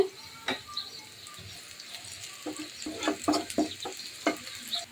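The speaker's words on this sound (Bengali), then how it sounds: "পেঁয়াজ কুচি দিয়ে দিলাম একটু রসুন কুচি দিয়ে দিলাম আস্ত জিরে দিয়ে দিচ্ছি" Chopped onion, garlic and whole cumin seeds frying in oil in a pan, a soft background sizzle with clusters of sharp crackling pops and light clicks, close but fairly quiet.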